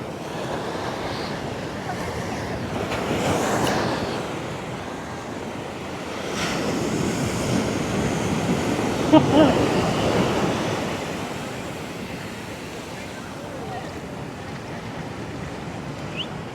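Hard surf breaking on the beach at Trunk Bay, a snorkeling spot, rolling in as steady close roars that swell and ease, with strong wind buffeting throughout.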